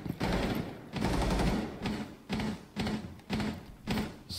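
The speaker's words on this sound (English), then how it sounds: "there goes one of our guys with a pistol shot." Bursts of gunfire in Rainbow Six Siege (Burnt Horizon), a long sustained volley followed by four shorter, evenly spaced bursts, loud and close with no talking.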